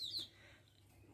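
A male pet songbird sings to call a female, giving a few faint, brief chirps near the start and again at the very end over a quiet background.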